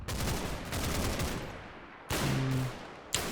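Machine gun fire in the World War II game Combat Mission: Battle for Normandy rattles as dense, loud bursts of rapid shots with brief pauses between them, and no voices are heard.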